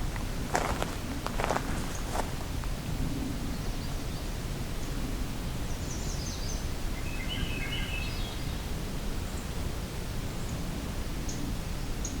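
A magnolia warbler sings short, faint, high phrases a few times at a distance along a quiet forest trail in the evening, over steady background hiss with a few footsteps and rustles early on.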